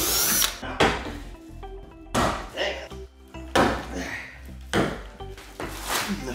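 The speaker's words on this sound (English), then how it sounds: "just drill from the bottom." Bursts of a power drill whirring in short repeated runs as it drills holes in a plastic ice-hut tub from the bottom, loud and close, separated by brief pauses and clunks.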